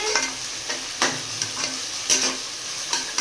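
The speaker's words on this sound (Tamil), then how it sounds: "ஆனியனை போட்டாச்சு" Onions frying in a pan for biryani give a continuous sizzle broken by several sharp scraping stirs, close and moderately loud, with no voices.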